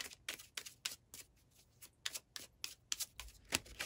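A deck of tarot cards being shuffled up close, a quiet run of crisp, rhythmic riffling flicks repeated about a dozen times.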